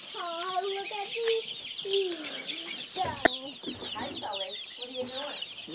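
Red sex link chickens cluck on a farm in a steady, busy chorus of overlapping calls from several birds close by, with a sharp squawk partway through and faint voices in the background.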